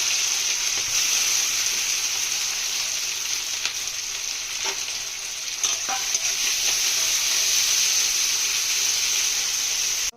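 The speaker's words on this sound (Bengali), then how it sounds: "প্রথমে আমরা চিংড়ি মাছগুলোকে ভেজে নেবো" A continuous loud sizzle of prawns frying in hot oil, a steady crackling hiss throughout with a few brief louder pops.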